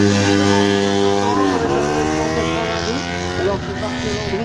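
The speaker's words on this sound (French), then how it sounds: "la Norton Commando Guscum 750, une moto de 1972" A 1972 Norton Commando 750 motorcycle engine revs loudly nearby at a vintage motorcycle event, a steady throb that dips and rises again as the throttle changes.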